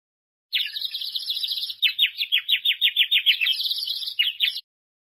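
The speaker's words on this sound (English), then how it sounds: "Bird." A small wild bird sings a loud, bright run of chirps and rapid repeated tweets for about four seconds, then stops, with no other sound around it.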